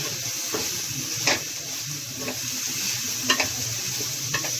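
Bitter gourd (karela) fries in a little oil with a steady sizzle, broken by several spoon-stirring scrapes and taps at close range, with no voices.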